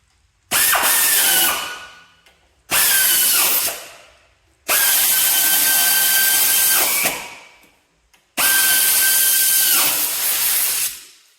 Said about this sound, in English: Handiest tool I ever had, 1/4 inch impact, ratchet impact.